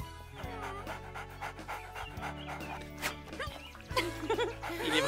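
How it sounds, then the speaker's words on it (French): A small cartoon dog pants quickly and eagerly over background music in an animated film, with a brief whimpering sound near the end. "on dirait que ce petit chien t'aime beaucoup"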